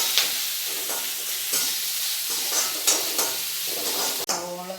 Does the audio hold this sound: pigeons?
no